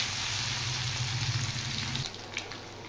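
Eggplant pieces fry in hilsa fish oil with a close, hissing sizzle that fades partway through, leaving a few faint clinks.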